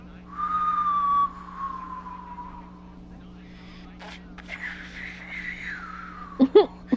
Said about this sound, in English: That's the sorriest whistle I've ever heard.